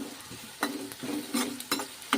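Onion with garlic and asafoetida frying in a pan for a Rajasthani dhaba-style sev tomato curry, a soft steady sizzle broken by repeated scraping stirs of a spoon against the pan.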